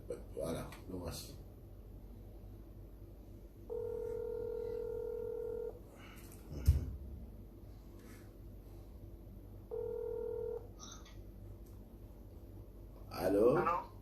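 Telephone keypad tones in two short steady bursts, each a few seconds long, separated by a gap with a brief thump, over a quiet room background with some faint voice and a closer voice at the end.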